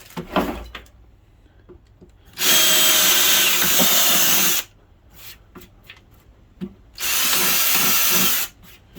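An Aldi Ferrex drill press bores a hole through cheap MDF on a pallet-timber base, two loud, steady whirring bursts of about two seconds each, separated by quiet pauses with faint handling noises.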